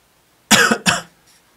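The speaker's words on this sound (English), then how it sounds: "Excuse me if I cough there, I did." Two quick, close coughs in a row, followed by a faint breath, in an otherwise quiet space.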